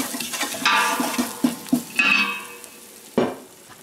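Sausage and peppers sizzle in a pan while being stirred, with scraping strokes and a few sharp knocks of the utensil against the pan, close and with no voices.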